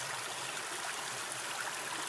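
A river flows steadily, a constant hissing rush of water with even texture throughout, moderately loud and uninterrupted by voices.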